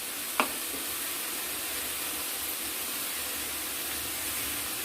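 Spice masala frying with ridge gourd in a pan gives a steady, even sizzling hiss that runs throughout at moderate level, with a single sharp tap near the start.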